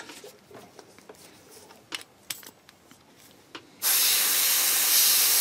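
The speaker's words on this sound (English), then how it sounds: "Spray through, and you can see it's coming out nice and clear" A few light clicks and taps, then an airbrush bursts into a loud, steady hiss as cleaner sprays through it, continuing to the end.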